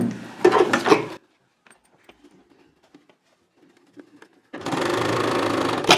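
A sewing machine stitches lace onto a blouse edge in two loud, close whirring runs, one short at the start and a steadier one at the end, with faint handling clicks in the quiet gap between.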